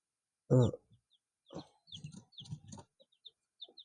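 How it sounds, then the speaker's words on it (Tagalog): Young Rhode Island Red and Black Australorp mix chicks give a few short, high peeps close by, with a louder burst first and then scattered softer cheeps against a quiet background. "Ato mga Rhode Island chicks and Black Australian mix."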